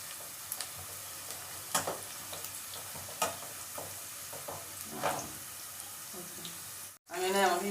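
Sliced onions with a pinch of salt frying in a pan for Mughlai biryani, a soft sizzle broken by intermittent stirring clatters, with a brief burst of louder noise near the end.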